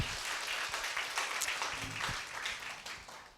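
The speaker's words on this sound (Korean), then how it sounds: "토론을 통해서 여러분에게 자세한 설명을 해주신 이치혁 교수님께 다시 한 번 더 큰 격려의 박수 한번 부탁을 드립니다" Lecture-hall listeners at a philosophy humanities forum give a professor a round of applause, a fairly faint, steady patter of many hands heard from a distance, with no talk over it.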